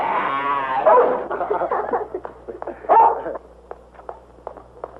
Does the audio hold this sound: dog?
yes